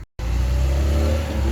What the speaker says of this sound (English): bit of a throb from the exhaust